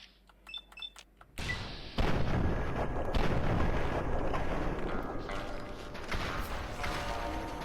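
Gunfire in the video game Fallout 3: a few quiet game beeps, then a loud, sustained barrage of booming shots and explosions that continues with little pause to the end, dense and heavy, without talking.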